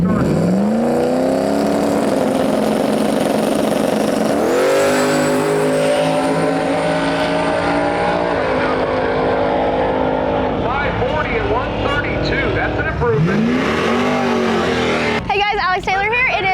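A 1972 Chevy Nova makes a drag racing run, its loud engine revving and climbing through several gear changes with repeated rising pitch sweeps, while an announcer talks over the roar.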